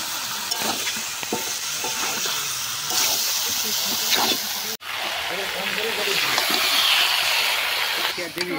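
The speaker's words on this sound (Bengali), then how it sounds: "দিয়ে দেবো 1 চামচ লাল কাশ্মীরি লঙ্কার গুঁড়ো, খুব ভালো করে মাংসটাকে কষিয়ে নেবো।" Chicken sautéing with a spoon of Kashmiri red chilli powder, a steady loud sizzle and hiss with scraping stirs in the pan, broken by one sharp clatter midway, with a voice speaking intermittently over it.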